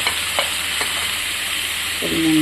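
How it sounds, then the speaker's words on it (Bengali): Red chili powder, chopped green chilies and turmeric stirred in a hot pan for a brinjal and potato dried-fish curry, giving a loud, steady close sizzle with a few spoon scrapes against the metal. "লাল মরিচ গুঁড়ো, কিছু কাঁচা লঙ্কা কুচি, হলুদ দিয়ে নেড়ে নেব।"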